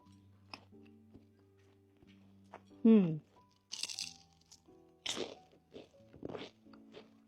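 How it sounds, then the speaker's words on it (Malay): Someone bites into pea eggplant sambal with fried anchovies and fiddlehead ferns, giving a few sharp, close crunches and pops with chewing between them, while a person speaks at points and faint music plays underneath. "Terung pipit ni kalau gigit dia akan meletup dalam mulut tau."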